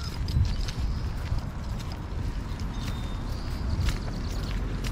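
Horses walking outdoors near Half Moon Bay, hooves clip-clopping in a steady loose rhythm at moderate distance over constant broadband background noise, with no speech.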